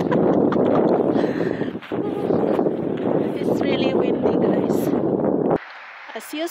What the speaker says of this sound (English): It's really windy, guys.